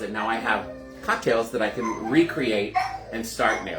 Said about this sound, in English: you guys can hear my puppy in the background because he knows that we're in here